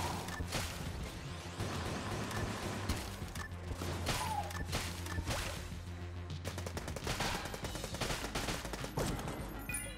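Dense, continuous gunfire from Enter the Gungeon, rapid shots and crashing impacts layered over a steady game soundtrack, loud throughout with no let-up.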